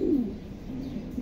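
A racing pigeon at a loft cooing close by, a single low, throaty coo followed by a softer, drawn-out murmur.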